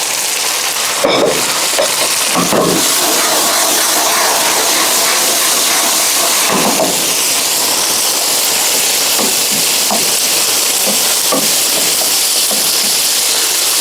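Onions and other vegetables sizzle in hot oil in a pan, a steady close hissing fry with occasional crackles and faint stirring taps, no voices over it.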